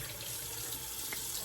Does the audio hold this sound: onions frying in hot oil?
no